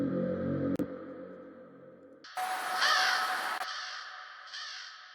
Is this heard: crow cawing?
yes